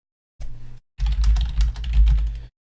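Someone types on a computer keyboard in two bursts of quick, close, clattering keystrokes, a short run and then a longer, denser run, with no talking.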